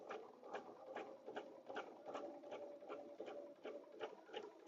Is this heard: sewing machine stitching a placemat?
yes